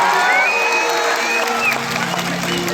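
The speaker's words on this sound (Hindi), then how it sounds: "ताली बजाते हैं गड़गड़ा के।" A crowd at a stage program in Nawada breaks into applause, a dense, loud clatter of clapping and shouts mixed with voices.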